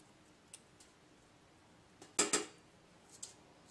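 Scissors cut through red fabric in a brief pair of crisp snips near the middle, close and clear against a quiet background with a few faint clicks around them.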